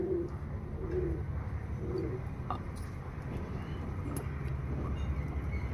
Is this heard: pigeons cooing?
yes